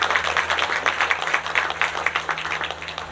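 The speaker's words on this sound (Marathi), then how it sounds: "जोरदार टाळ्या एकदा" At a book launch ceremony, an audience breaks into brisk applause, individual claps audible within a moderately dense, rhythmic round that stays fairly steady for a few seconds.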